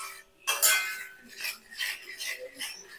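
Spoon scraping and clinking against a bowl while hair dye oil ingredients are mixed, a brief louder clatter followed by repeated rhythmic stirring knocks, close and fairly quiet.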